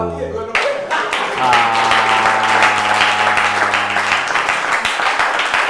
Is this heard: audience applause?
yes